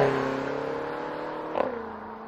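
A BMW M5 Nighthawk twin-turbo V8 drones with a steady, smooth exhaust note at moderate volume, swelling briefly with a small surge near the end.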